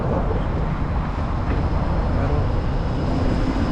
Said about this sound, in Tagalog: Ayun, yung tram.